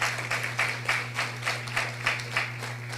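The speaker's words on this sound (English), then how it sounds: "So please join me in giving them a big round of applause for the hard work that they are doing." An audience applauds at a government housing drive event, clapping in a slow, steady rhythm with regular beats over a steady low electrical hum, no voices on top.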